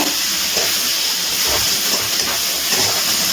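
Chopped onion frying in hot oil in a pan for chicken masala, a loud, continuous, close hissing sizzle with no breaks.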